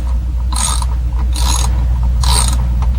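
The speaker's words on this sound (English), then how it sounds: "then use a ratchet, put your finger against the socket real tight" A ratchet wrench turns a socket on a GM ignition, giving three short bursts of rapid metallic clicking, close and fairly loud, separated by brief pauses over a steady low hum.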